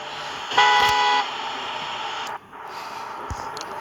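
A single sustained bus horn blast sounds close and loud for about half a second over steady road and engine noise at nightfall.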